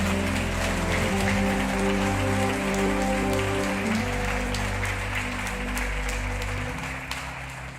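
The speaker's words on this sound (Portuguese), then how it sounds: "Quantos podem aplaudir o nome do Senhor?" A church congregation applauds continuously, a dense, sustained wash of clapping with a steady low hum underneath, tapering slightly at the end.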